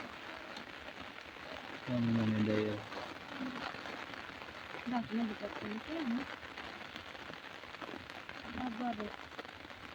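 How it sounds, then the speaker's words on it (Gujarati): Steady rain falls on farmland throughout with a soft hissing patter, while voices speak briefly and intermittently over it. "વરસાદ મિત્રો અત્યારે હાલમાં આવી ગયો છે"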